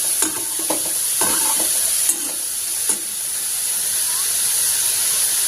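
Pumpkin halwa cooks in ghee and oil over low heat, a soft continuous sizzle and hiss under several distinct scrapes and knocks of a spoon stirring the pan, close by and fairly quiet.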